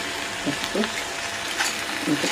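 Onions and coriander seeds fry in oil for a tomato curry, giving a steady soft sizzle close by, with a few light stirring clinks over the hiss.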